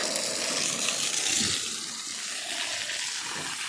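Water splashing and running down onto a bathroom roof, a continuous close hiss of flowing water, short and alone.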